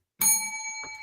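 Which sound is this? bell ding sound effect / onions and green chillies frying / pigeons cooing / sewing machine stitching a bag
bell ding sound effect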